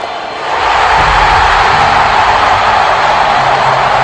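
Stadium crowd at a Kansas City Royals World Series game erupting after a strikeout of an Angels batter, a loud, dense roar that jumps up within the first half second and holds steady and wall-like.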